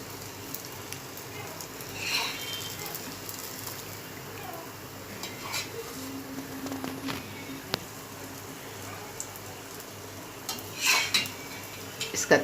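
Fried khaproli, a sweet snack, is lifted from a frying pan onto a plate. Soft metal scrapes and clinks of utensil against pan come at a moderate, close level, with light sizzling underneath and a few sharper taps near the end.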